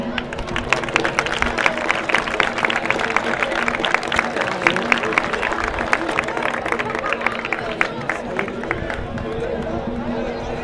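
A large crowd claps steadily and loudly at an outdoor Holy Week drumming gathering in Abarán, the dense applause holding for the whole stretch with murmuring voices underneath.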